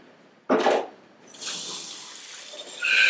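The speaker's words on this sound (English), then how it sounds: "use scalding hot tap water to completely fill up the bucket" Hot water gushes from a tap into a bucket: a sharp splash burst at first, then a steady hissing, filling rush that swells again near the end, with no voices.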